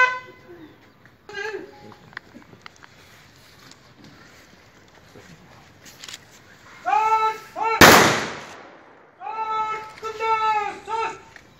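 A rifle volley gun salute at the military state funeral of an Air Force wing commander, a single sharp, loud broadband crack up close, set among a crowd with voices, calls and horn-like tones before and after.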